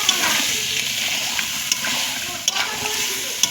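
Boiled ghugni for chicken ghugni sautés loudly in a hot pan, a dense close sizzle with occasional sharp scrapes and taps of the spoon against the pan.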